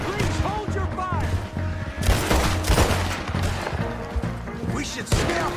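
Gunfire in a shootout in Red Dead Redemption 2, a close, dense volley of shots with thuds and cracks, under characters' voices talking throughout.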